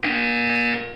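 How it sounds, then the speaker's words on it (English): A single loud electronic buzzer from the video game Portal 2 sounds for about a second, a harsh steady tone that cuts off abruptly. "When you hear the buzzer, look up at the ceiling."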